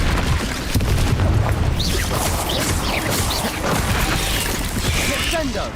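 Confringo fire spell explosions in the Hogwarts Legacy video game, a dense, continuous barrage of booming blasts and crashing impacts amid other spell effects during combat, loud throughout.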